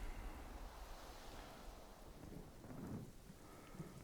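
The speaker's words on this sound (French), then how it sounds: "C'est la tempête." A storm in the video game Pathfinder Adventures: dense steady rain hiss with low rumbling thunder swelling beneath it, a continuous quiet wash of sound with no speech.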